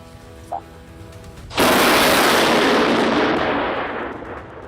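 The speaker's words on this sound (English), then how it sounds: "that explosion sounded absolutely terrifying" A sudden, loud roaring blast erupts after a quiet stretch, then a sustained rushing rumble that slowly fades over several seconds.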